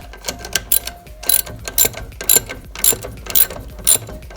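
A ratchet tightens the track adjuster screws on a Ski-Doo snowmobile, making close, rhythmic metallic clicking in short repeated bursts, roughly every half second, with nobody talking.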